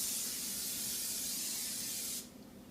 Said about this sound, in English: spray your 13x9 cooking pan with non-stick cooking spray